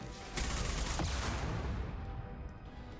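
Burst of weapon fire from a rocket launcher in Mass Effect Legendary Edition, a sudden loud blast that starts abruptly, then a rumbling, crackling tail of explosions and gunfire that slowly fades.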